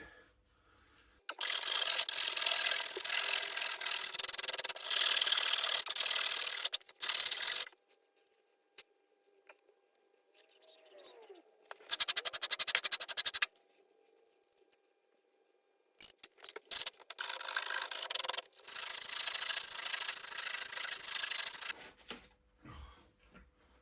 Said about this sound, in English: So I've got the rasp and my cutter thing, so I'll just take some of this back.